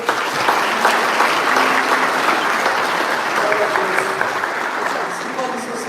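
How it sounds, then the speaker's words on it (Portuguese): A congregation applauds steadily and loudly throughout, with a few cheers and voices rising from the crowd over the clapping. "Você pode aplaudir ao Senhor."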